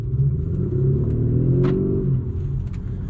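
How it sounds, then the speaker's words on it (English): An Audi SQ5 diesel V6 SUV engine hums and revs steadily, a low droning rumble with a faint synthetic engine tone layered over it, continuous throughout. "Just listen to that fake noise combined with the diesel V6."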